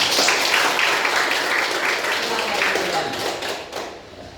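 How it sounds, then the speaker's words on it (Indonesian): A class of university students applauds during a lecture, a dense burst of clapping that holds steady for several seconds before thinning and fading out. "Oke, aplaus untuk kita semua."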